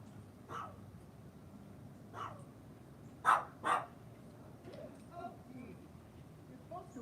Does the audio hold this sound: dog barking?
yes